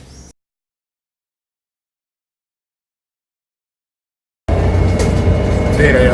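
Silence gives way to a loud, steady bus engine rumble inside a coach, heavy at the low end, filling the last stretch after a brief noisy start.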